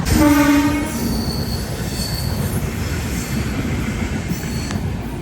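A train rolls past a railway crossing, its horn sounding briefly at the start, then steady rumbling wheel noise with faint squeals continuing close by.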